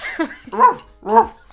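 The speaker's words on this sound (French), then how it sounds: "un chien très très malade" A dog gives three short whining barks with whimpering, close and loud, with brief pauses between each cry.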